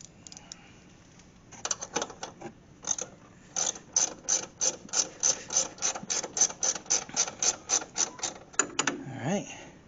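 A ratchet wrench tightens strut bolts on a Ford, producing a rapid even run of crisp clicking pawl strokes, close and clear, in bursts with short pauses and a few handling sounds at the end.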